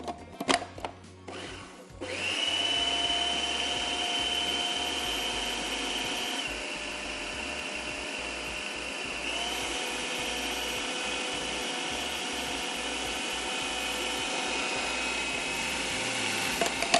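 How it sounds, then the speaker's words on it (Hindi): An electric grinder pulverising soaked lentils (dal) for qeema kofte starts after a few clicks and settles into a loud, steady whirring drone that continues unbroken to the end. "दाल हमारी पिस चुकी है अच्छे से"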